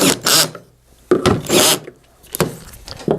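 Screws are tightened into the middle upper housing of a device, giving short scraping, ratcheting bursts in three clusters with brief silences between them.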